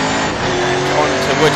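Classic Thunder race cars at Silverstone National Circuit powering out of Luffield corner, a steady dense engine roar with layered exhaust tones, close and loud, under continuous commentary.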